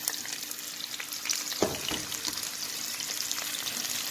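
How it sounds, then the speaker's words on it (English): Bitter gourd sizzles and crackles in hot oil in a pan, with a steady frying hiss, occasional pops and a brief stirring clatter. "Okay, now we'll fry. Let it fry for 2-3 minutes."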